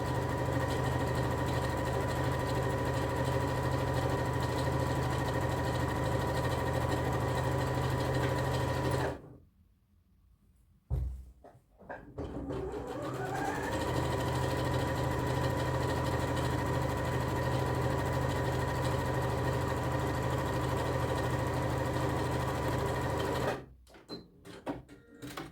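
A sewing machine runs steadily as it closes the side seam of a dress with a 1.5 cm seam allowance, a loud continuous whir interrupted by a brief pause and a second stop near the end.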